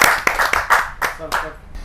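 An audience at a Hindi poetry gathering claps by hand to welcome a poet, giving several rhythmic bursts of close, fairly loud applause that thin out toward the end, with a voice faintly audible underneath.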